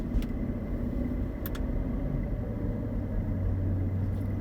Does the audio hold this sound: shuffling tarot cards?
no